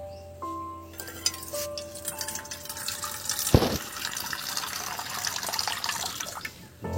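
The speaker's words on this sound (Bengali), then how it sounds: "এই চর্বি ধুয়ে নেবো, এই দেখুন" Water runs from a tap while goat fat is washed in a sink, a steady splashing stream with clinks of a bowl and one sharp knock midway, fairly close and moderately loud.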